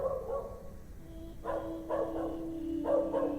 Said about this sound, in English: That's some realistic dog barking sounds.